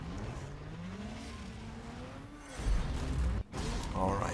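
A Mazda's engine in Need for Speed: Most Wanted drones and revs while tires squeal, the sound surging louder near the end, with a voice speaking under it.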